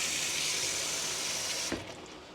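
Garden tomatoes rinsed under a steady running tap and dropped into water, a continuous close hiss of flowing water with a brief splash near the end as the stream cuts off.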